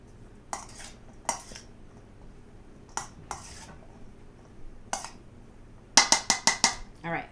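Potato salad with vegetables being mixed in a bowl, quiet scrapes and knocks of a utensil against the dish, ending in a quick burst of clinks, close by with faint background hum.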